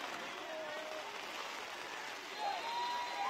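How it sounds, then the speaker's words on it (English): A distant crowd of high school football fans cheers at Smalls Athletic Field during a Northern York vs. York High district playoff game, a faint, steady roar of voices and clapping that swells slightly near the end. "you can hear the crowd of the Bearcats"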